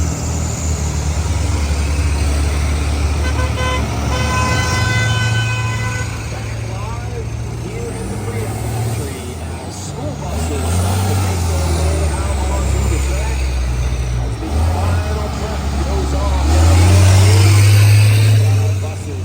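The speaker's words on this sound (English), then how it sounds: "everybody loves school bus figure racing" School buses race a figure-eight track at a demolition event, their engines rumbling and surging with horn toots and hissing air brakes, while voices carry over the crowd noise.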